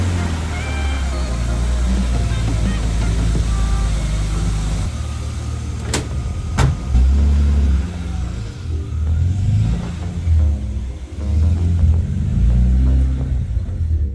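A BMW with aftermarket camber arms drives on the road, its engine and tyre rumble steady and close from inside the cabin, with a couple of sharp clicks and faint talk in the background.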